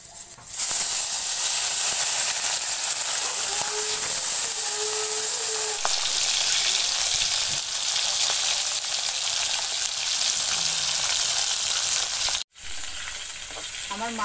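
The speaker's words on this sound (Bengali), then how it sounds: "এবার মাছগুলো ভেজে নিই" Pieces of fish sizzling in hot oil in a kadai, a loud continuous close-up crackle and hiss, interrupted briefly near the end before the frying resumes, with no talking.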